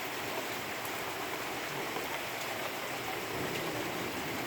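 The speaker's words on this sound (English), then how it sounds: "if it doesn't stop raining soon, our whole house is going to fall apart." Constant heavy monsoon rain in Paulden, Arizona roars and hisses without a break, like a steady downpour with no voices.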